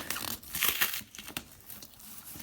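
Sticky tape crinkles and tears in short, close bursts, crackly rustling rising and falling over a couple of seconds while a ferret owner prepares raw food.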